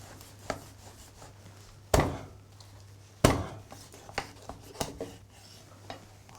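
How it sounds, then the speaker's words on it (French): A knife cutting a rabbit saddle into pieces on a board, with two sharp, loud chops followed by a series of lighter taps and knocks in an irregular rhythm, close up and without talk. "Donc là, tu vas le couper en 3 par exemple."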